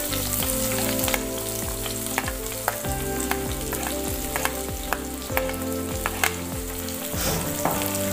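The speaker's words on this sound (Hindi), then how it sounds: "सब तों पहलां असी इहदे विच पावांगे प्याज।" Onion frying with cumin in a pan gives a loud, steady sizzle with bursts of crackle and the scrape of stirring, with no voices over it.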